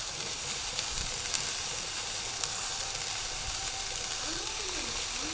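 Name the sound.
meat sizzling in a frying pan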